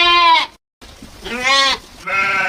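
Sheep in an animated Hindi story about a shepherd and a grassy meadow give three loud, close, wavering bleats separated by short pauses, with no talk.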